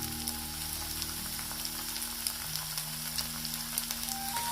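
Ginger, garlic and chilli paste fries in a pan for a cauliflower paratha filling, giving a steady soft sizzle with fine crackles and a low background hum, fairly quiet and uninterrupted.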